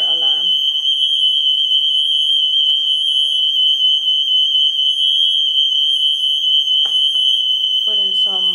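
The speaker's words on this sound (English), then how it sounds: "that's our fire alarm" A home fire alarm sounds continuously as a loud, steady high-pitched tone through the whole stretch, with a person's voice talking briefly at the start and end.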